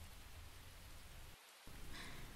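Soft, steady rain falling, faint and even, with a brief lull partway through before the patter resumes.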